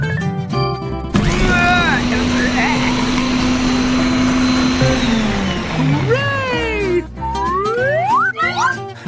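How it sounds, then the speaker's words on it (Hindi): A blender whirs steadily for several seconds while mixing pickled cucumber pieces, chocolate paste and milk, framed by loud cartoonish swooping and boinging sound effects. "और बस इन सबको ब्लेंडर में डालकर मिलाया गया है।"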